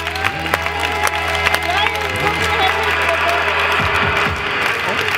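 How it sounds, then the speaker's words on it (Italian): Audience applause for a contestant at a hotel entertainment show at a Makadi Bay resort in Egypt, steady dense clapping and crowd noise throughout, with a host's voice and music-like tones underneath. "Ladies and gentlemen, big applause for Mr."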